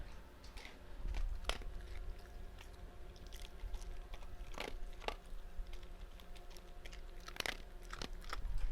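Mechanical chewing from a beast's mouth: wet, crunchy bites and squishy mastication repeating irregularly over a steady low hum, close and moderately loud with no talk.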